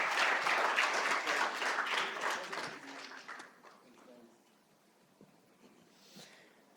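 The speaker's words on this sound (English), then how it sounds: "Can we have a huge round of applause for this amazing session" Audience clapping at a literature festival session, fairly loud and dense at first, then fading to scattered claps and quiet room tone.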